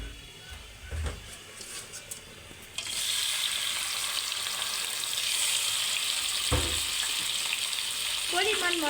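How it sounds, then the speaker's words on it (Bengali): Prawns frying in a hot pan for a papaya-and-prawn curry, a steady loud sizzle and crackle that bursts in about a third of the way through after a few quiet clatters, with occasional stirring knocks. "চিংড়ি মাছগুলো ভেজে নিব।"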